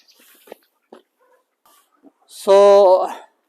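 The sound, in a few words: dog barking under trees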